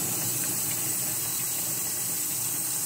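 Hands rub back and forth in warm water, heard as a constant, fairly loud watery wash without any distinct splashes or talk.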